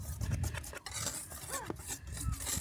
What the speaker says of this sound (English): Get all that, give that a nice whisk together.